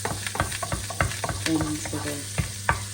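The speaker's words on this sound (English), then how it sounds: "Make sure all the juices and everything's nice and sizzling." Vegetables and their juices sizzle in a frying pan while being stirred, a steady close hiss broken by repeated scraping and clattering stir strokes, with no talking.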